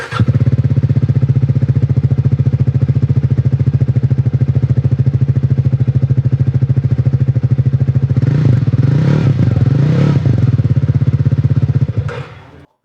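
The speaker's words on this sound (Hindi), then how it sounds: "चलिए बाइक को स्टार्ट करते हैं," A Triumph Speed 400 motorcycle engine catches and settles into a loud, steady, close-up idle with a rapid thumping beat, revs briefly rise a few times near the end, then the engine cuts off.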